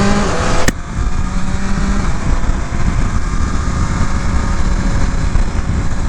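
A 2023 BMW M1000RR motorcycle engine drones loud and continuous while riding, with strong wind rush throughout after a brief sharp click at the start; no talking.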